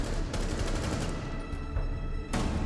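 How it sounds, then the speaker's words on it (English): Rapid automatic gunfire in a Rainbow Six Siege match on the Kafe map, aimed at destructible mini bars, with dense repeated shots and a few louder bursts standing out, close and loud with no talk. "These mini bars are destructible as long as you shoot them enough times."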